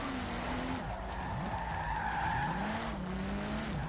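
Tires on a BMW M2 widebody squeal steadily mid-drift in Forza Horizon 4, a continuous wavering screech over engine drone with the pitch bending as the slide changes.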